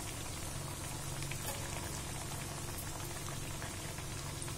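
Methi spring rolls fry in a pan with a dense, steady crackle and hiss that keeps going without a break. No one speaks over it.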